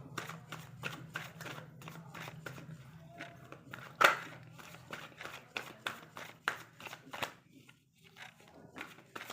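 Tarot cards being shuffled by hand, a rapid series of crisp riffling flicks and soft slaps at close range, with one sharper snap partway through and no talking.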